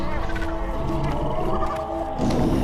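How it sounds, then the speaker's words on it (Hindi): A lion roars in a dark forest as a horror-story sound effect, a loud continuous rumbling growl heard under a dense, noisy eerie soundscape. "शेर की दहाड़ अलग सुनाई दे रही है।"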